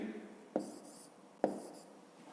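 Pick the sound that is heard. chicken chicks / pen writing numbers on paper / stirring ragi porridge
pen writing numbers on paper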